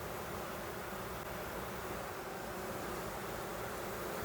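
Honeybees hum at an open beehive with a faint, even, continuous drone and no talking.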